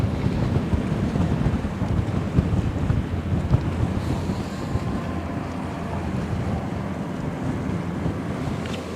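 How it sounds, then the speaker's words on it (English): Strong wind on the Westerschelde estuary, a constant loud roar buffeting the microphone over the wash of waves and water, steady and broadband without letup and no voices. "there's definitely a lot of wind to use"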